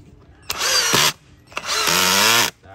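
A cordless drill drives a screw into wood in two whining bursts, a short one followed by a longer one that pitches down as the screw seats, with quiet pauses between.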